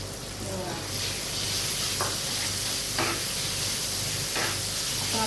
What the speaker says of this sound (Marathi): आता अद्रक लसणाची पेस्ट टाकून बघा